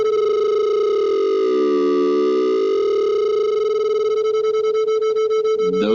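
Two sustained pure tones near 440 hertz play together, one shifted slightly in pitch so a slow wavering pulse of beats appears, then steadies and returns; steady, loud and unaccompanied by talk.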